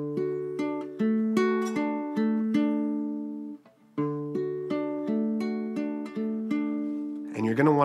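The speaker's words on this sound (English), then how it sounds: "So it'll sound like this." Acoustic guitar playing a slow strumming pattern, close and clear, with sharp picked chord strokes in a steady rhythm, a short pause midway and a final noisy scrape at the end.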